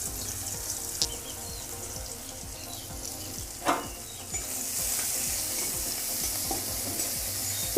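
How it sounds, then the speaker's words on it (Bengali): Chopped onion sizzles steadily in hot oil after fried eggs are lifted out, a close, continuous frying hiss with a sharp clatter near the middle and a brighter hiss toward the end. "এবার ওই তেলের মধ্যে দিয়ে দিচ্ছি পেঁয়াজ কুচি"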